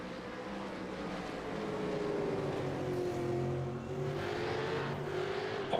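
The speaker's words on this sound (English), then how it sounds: "And you can hear them just grinding their cars on the wall as well." Simulated V8 Supercars racing on the Chicago street circuit in a sim racing game, engines droning steadily with shifting pitch as cars scrape and grind along the wall, a continuous close mechanical roar with no talking.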